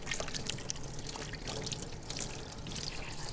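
Tap water runs steadily into a sink while hands are rinsed, a soft close splashing stream with light trickling and no talk.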